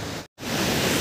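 A large waterfall near Kanha Kisli National Park roars steadily, a dense broadband wash of falling water heard up close, broken only by a brief silent gap.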